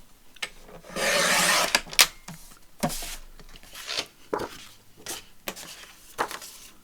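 Paper being trimmed on a paper trimmer during a journal-making craft session, with a long rasping slide of the blade followed by several short scraping and rustling strokes and handling noises, close by with no talking.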